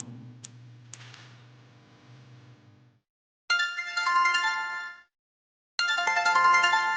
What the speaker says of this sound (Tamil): யாரு ஃபோன் பண்றா? ஏன் அட்டெண்ட் பண்ண மாட்டேங்கிறீங்க?